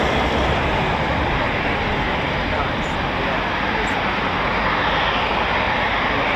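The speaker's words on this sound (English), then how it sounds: "We do have a Typhoon of 29 Squadron taxiing out right now." A Eurofighter Typhoon FGR4 jet of 29 Squadron taxiing at RAF Coningsby, a loud, steady broadband engine roar that fills the whole stretch, with someone speaking over it.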